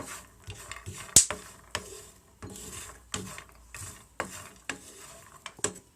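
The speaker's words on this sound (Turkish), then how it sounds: "Sık sık karıştırıyoruz. Bademlerimiz yanmasın diye." Almonds roasting in a pan being stirred often, a wooden scraping and rattling of nuts repeated in short strokes, with light sizzling underneath and no talking.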